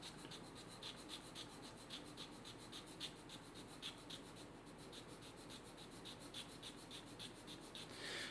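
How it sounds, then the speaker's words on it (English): Oboe reed cane is rubbed against sandpaper in quick, regular rasping strokes, close and quiet, with faint breathing in the background. "you can see in the sandpaper where your sanding stops"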